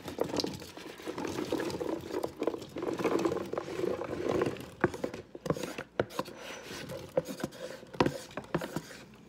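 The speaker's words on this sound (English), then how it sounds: "You want to make sure you add enough water to cover the potatoes." Water pouring over potatoes in a pressure cooker pot: a close, continuous splashing and gurgling fill, with clinks and knocks of handling toward the end.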